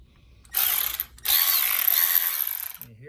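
Milwaukee M12 3/8-inch cordless ratchet running close up, two loud whirring bursts with a short stop between, the second longer and wavering in speed before cutting off.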